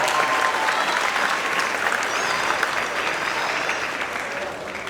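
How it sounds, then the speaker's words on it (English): A large crowd applauds steadily, dense continuous clapping that holds at an even level from start to finish. "Let's give the class of 2024 a round of applause for their hard work"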